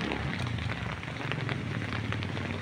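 Heavy rain falls during a typhoon, a dense, continuous patter and hiss of drops on surfaces, steady and close with no talking.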